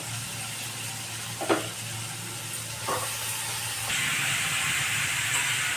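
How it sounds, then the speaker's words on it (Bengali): Potatoes and cabbage with spices fry in a pan for a Bengali-style cabbage dish: a steady close sizzle and hiss with a few brief stirring scrapes, the hiss growing louder toward the end. "ভেজে রাখা আলুগুলো দিয়ে আর বাঁধাকপি দিয়ে মশলাটাকে কষবো।"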